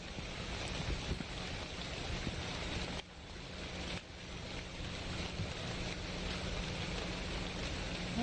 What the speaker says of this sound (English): That rain is loud as hell, though.